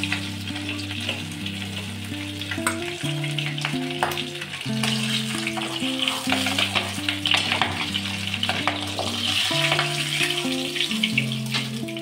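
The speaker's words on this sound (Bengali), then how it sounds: "ওই তেলের মধ্যে মাছের মুড়োগুলো ভাজতে দেব" Fish heads fry in hot oil for a Bengali muri ghonto, a loud continuous sizzle and spatter with occasional stirring, heard alone without speech against a low tonal hum.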